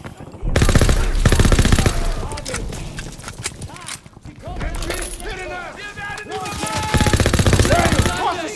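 Machine guns sweep a beach in the Call of Duty WW2 campaign, firing two long, loud, rapid bursts of gunfire with a chaotic stretch of battle noise and shouting soldiers between them.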